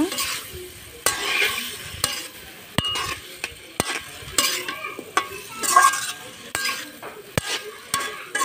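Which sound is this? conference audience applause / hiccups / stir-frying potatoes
stir-frying potatoes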